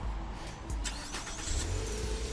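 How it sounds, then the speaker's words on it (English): A Nissan Altima SR starts by remote start, its engine catching and settling into a steady idle rumble, heard close with no talk over it. "But this car does have remote start"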